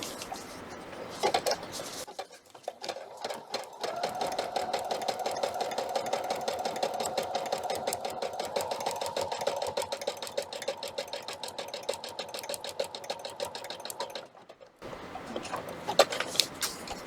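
A sewing machine stitches a hooded towel in a fast, even run of needle strokes lasting about ten seconds, framed by brief handling noises and short pauses at either end.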